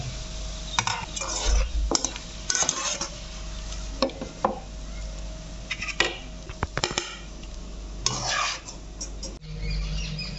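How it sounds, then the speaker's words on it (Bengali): A spoon scrapes and clinks in a pan while fried onions are lifted out of hot oil, giving scattered close metallic taps and stirring scrapes over a faint background sizzle. "পেঁয়াজ বেরেস্তা আমার হয়ে এসছে, এবার আমি তুলে নেব।"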